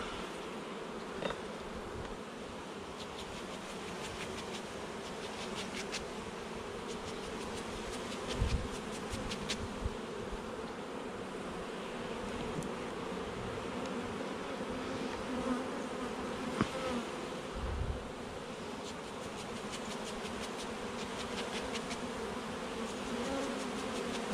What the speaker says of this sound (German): So, ich brauche immer noch mehr Bienen.